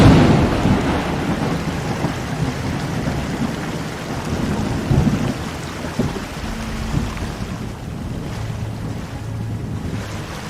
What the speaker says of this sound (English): Watch the lightning here and then listen to the thunder.